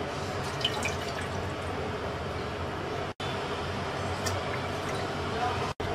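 One and a half cups of water poured into a kadai on the stove while making potato semolina puri, a continuous close splashing and trickling wash with two abrupt brief cutouts.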